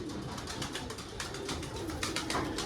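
Soft, low pigeon coos repeat in a gentle rhythm, close by, with faint rustling and ruffling around them as a female pigeon is handled at a pigeon sale.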